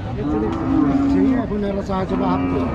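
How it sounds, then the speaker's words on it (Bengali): A black cow moos loudly and repeatedly at a busy cattle market in Rajshahi, its long low calls rising over a steady crowd murmur and background chatter. "আমরা এখানে কালো গরুটা দেখাই"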